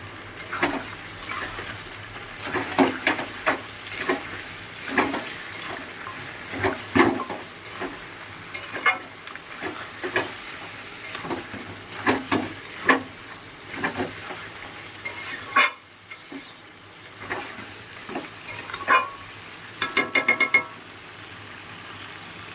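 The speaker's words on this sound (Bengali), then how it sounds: "কাঁকড়াটা বেশ ভালো করে একটু ভেজে নেব কিছু সময়" Crabs coated in salt and turmeric fry in a pan, giving a continuous sizzle with frequent scraping and stirring clatter of a spatula on metal and a brief pause partway, without voices.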